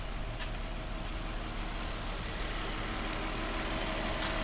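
A 2005 Infiniti G35 engine idles steadily and smoothly, a low constant rumble with no revving or voices.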